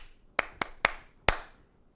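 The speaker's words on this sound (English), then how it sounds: "your body can make lots of different sounds too, like clapping, for example" Four sharp hand claps, the first three close together and the last after a short pause, crisp and near with nothing else around them.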